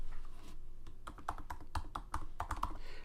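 A short run of typing on a computer keyboard, with rapid, crisp key presses heard up close and nothing else over them.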